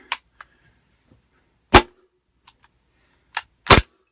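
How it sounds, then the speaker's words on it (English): A WE German Luger airsoft pistol with an 8-inch barrel fires several sharp, isolated shots, each a crisp snap followed by silence, the last two louder and close together. "I'm just going to be doing a shooting demo for you guys"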